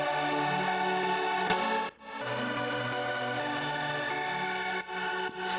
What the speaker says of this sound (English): Then I've got a mega saw basically doing the same notes as the main lead and the chords.